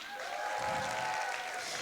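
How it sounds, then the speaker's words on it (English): A crowd at a youth poetry slam final applauds and cheers after round scores are announced, a steady wash of clapping with a few higher whoops, sustained at moderate loudness and without speech. "give a big cheer when you hear the results of this round"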